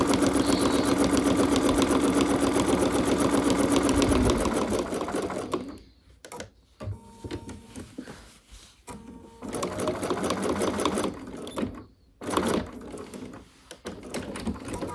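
A sewing machine stitches an appliqué sunflower onto a pillowcase, a loud steady mechanical whir that stops and restarts several times as the fabric is turned, close and with no talk.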